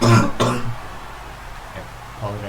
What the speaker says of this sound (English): Apologise for the cough there